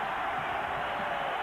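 A college football stadium crowd at the 1994 Kansas State at Colorado game sends up a steady, dense roar of cheering and noise, with no breaks across the moment.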